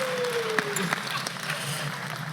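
An audience claps in a brief burst of applause, with a voice talking and a thin whistle-like tone over the clapping.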